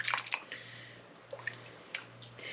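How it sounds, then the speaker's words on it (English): Vegetable soup is ladled into canning jars, making a few soft splashes and wet drips with light clinks, close and quiet, separated by brief gaps. "I'm just gonna ladle it like I would just soup"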